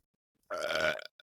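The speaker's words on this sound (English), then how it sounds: "Oh, sorry, that was a burp." A single short, throaty burp, close and fairly loud, following a moment of silence.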